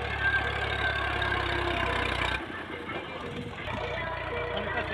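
A Ghazi 65 tractor engine idles nearby with a steady low rumble that drops noticeably in level halfway through and then continues more softly.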